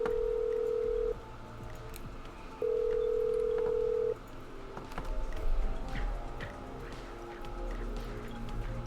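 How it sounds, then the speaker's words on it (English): Telephone dialing in the video game Killer Frequency: two long steady tones from a phone handset, then rising background murmur and faint clicks, with no speech. "I'm dialing."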